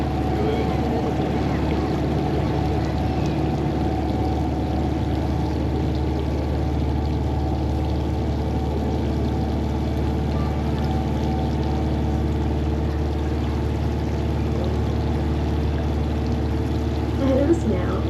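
Cruise boat moving along a river through Cataract Gorge near Launceston, Tasmania: steady engine drone with rushing, gurgling water, constant and close for the whole stretch.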